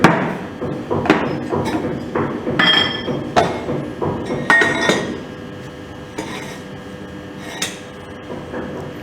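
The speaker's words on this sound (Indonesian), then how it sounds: "Setelah selesai, kita masukkan spacer disk. Setelah itu kita masukkan mold." Metal parts being handled for a CBR soil lab test: a spacer disk and mold are set in place, producing a series of close clinks, clanks and dull knocks at irregular intervals.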